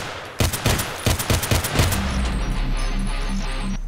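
Rapid gunfire from a 30-round weapon in the shooter Contract Wars on the Lake map, a burst of about ten loud, evenly spaced shots, then a low ringing hum.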